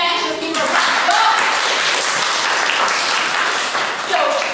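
Steady applause from a gathered audience at a leadership institute event honoring a program founder, a dense wash of clapping lasting several seconds with some faint voices mixed in.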